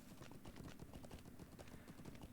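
Horse hooves clip-clop in a steady, quick rhythm during a horse ride in the Lord of the Rings Online game, faint but continuous throughout with no talk over them.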